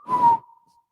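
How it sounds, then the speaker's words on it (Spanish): A single sustained whistled note, steady and mid-pitched, starts with a brief breathy rush and then trails off quietly within a second, with no talk. "Discúlpeme que lo haya silbado."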